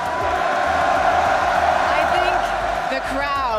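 Large arena crowd cheering at the Fortnite Global Championship, a dense, steady roar of voices and whoops that holds loud across the whole moment with a slight dip near the end.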